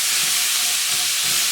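Chopped vegetables sauté in hot oil in a pan over slightly lowered heat, giving a steady, close, loud sizzling hiss with faint soft stirring thumps underneath.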